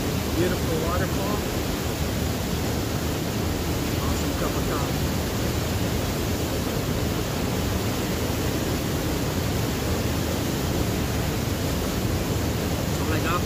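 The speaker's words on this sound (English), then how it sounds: "Beautiful waterfall." Waterfall on the Fish Creek hike, a loud, unbroken roar of rushing water filling the whole stretch, with a faint voice now and then beneath it.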